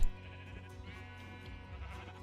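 Sheep bleating in the Minecraft video game, a few short blocky bleats standing out over a steady bed of game music and ambience.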